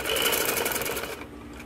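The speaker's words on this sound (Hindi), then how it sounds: "इसी तरह हम दूसरे चाक तक भी सिलाई लगा लेंगे।" A sewing machine stitches a ladies kurti in a fast, even mechanical whir, close and loud, slowing slightly toward the end with no talk.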